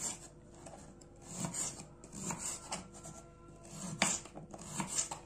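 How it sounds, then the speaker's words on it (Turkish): A knife chops carrots on a cutting board in a home kitchen, giving quiet, uneven strokes and rasping cuts in irregular bursts with no talking. "Şimdi de havucumu doğruyorum."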